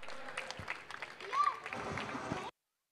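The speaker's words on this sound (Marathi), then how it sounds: "या प्रयत्नांसाठी मित्रांनो जर एकदा जोरदार टाळ्या होऊन जाऊ द्या" A crowd at a local cricket premier league match, the SVPL, claps loosely with a mix of voices and a shout, over about two and a half seconds before it cuts to silence.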